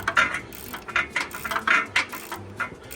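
Quick bursts of ratchet clicking while a bolt is tightened on the AC compressor of a 2017 Nissan Maxima, several short rhythmic runs of metallic clicks, close and alone.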